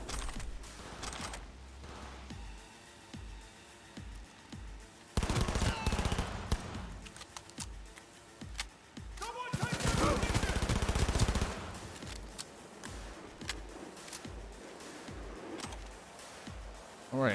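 Gunfire in Cyberpunk 2077 comes in rapid automatic bursts and single shots, with loud clusters around the middle and quieter scattered shots between them, mixed with game sounds and brief talk.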